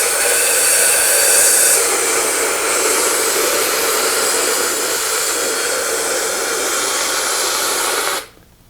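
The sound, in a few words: Cryonite system spraying CO2 pest treatment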